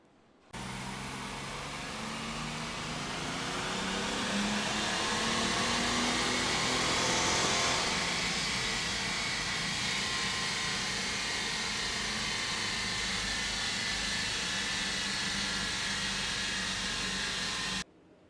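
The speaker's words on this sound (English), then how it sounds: "let's warm this thing up" Mercedes W210 E300Td with the OM606 diesel engine warming up, a loud, steady rumbling drone and whoosh that starts abruptly, swells slightly around the middle, then holds evenly before cutting off near the end.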